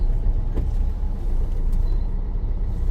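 Jammed road traffic of cars and buses, a dense low engine rumble that holds steady and close, with a brief hiss and small clanks, no talk heard.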